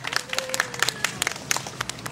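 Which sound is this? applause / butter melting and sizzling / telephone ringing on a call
applause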